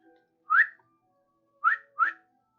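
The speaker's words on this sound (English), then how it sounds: "you're woken up by a very loud whistle" Three sharp, loud whistles, one alone and then a quick pair a second later, each a rising piercing note against silence.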